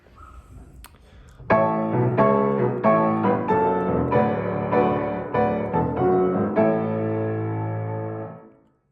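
Solo piano plays a slow hymn-like passage of full chords with flowing bass runs connecting them, ending on a sustained chord that fades.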